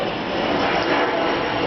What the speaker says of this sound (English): There goes another jet. Every couple minutes there's a jet go by.